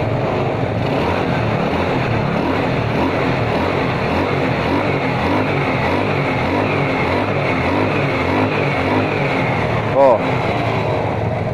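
A bored-up Honda Nouvo 130 motorcycle engine revving loudly and close by, a steady rough mechanical drone with a brief bump near the end and a short exclamation.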